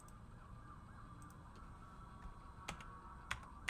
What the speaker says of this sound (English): You can hear the emergency vehicles behind me.